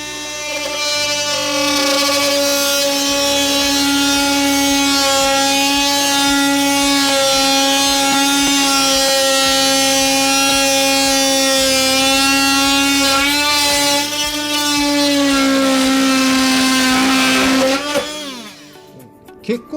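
An oscillating multitool fitted with a RAMIXER replacement blade plunge-cuts into a plywood panel, giving a loud, steady buzzing whine that runs unbroken for most of the time and then stops abruptly near the end.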